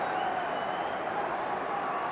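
A stadium crowd roars at a 2003 State of Origin rugby league match between New South Wales and Queensland. The steady, dense wash of noise sounds like a large crowd reacting from a distance.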